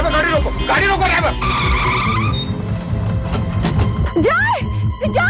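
A car brakes hard and skids to a stop, with loud tire squeals rising and sliding over rumbling engine noise, close by, and a shouting voice during the skid.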